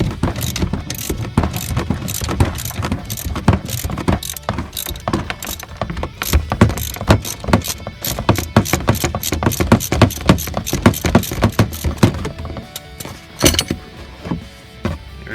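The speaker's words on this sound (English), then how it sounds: "I'm going to attach a socket to here, turn clockwise, it's going to slowly pull that pulley up" Gear puller being turned with a ratchet socket to slowly draw the AC clutch pulley off a Nissan Murano compressor, a close, steady series of rapid ratcheting clicks and mechanical ticks with no talk.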